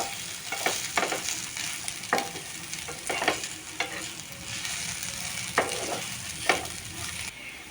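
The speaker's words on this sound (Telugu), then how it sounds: "ఇలా మంచిగా మిక్స్ చేసుకుందామండి" A spoon stirs and mixes radish fry in a pan with ginger-garlic paste and turmeric, giving repeated scraping clinks over a steady sizzle, moderately close with no talking.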